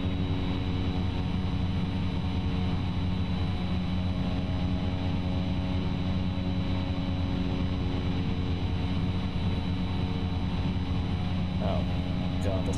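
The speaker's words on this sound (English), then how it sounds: "increase the throttle here." Steady, loud engine drone of a Cessna 208B Caravan in flight, a continuous hum with a constant tone throughout.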